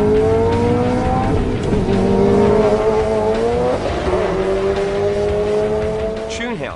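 A tuned Subaru STI accelerates hard down a drag strip, its engine note climbing in loud strained pulls between gear changes, with tire noise near the end and a voice talking over it.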